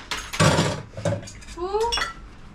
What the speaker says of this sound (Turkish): bulaşık yıkayacak.